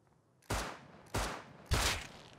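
Three loud, close gunshots from a custom SMG in the survival game Rust, spaced about half a second apart, each a sharp broadband crack with a short decaying tail, no talking.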